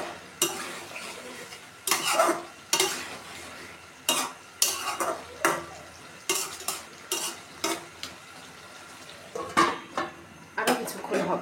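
Dried fish and brinjal curry stirred in a pot with a metal spoon: repeated scraping, clattering strokes in uneven bursts over a quiet background of faint bubbling. No one speaks.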